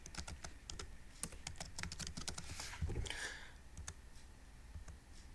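Typing on a computer keyboard while entering form text in Visual Basic 2013: quick, irregular clicking keystrokes, close and fairly quiet, with no talking.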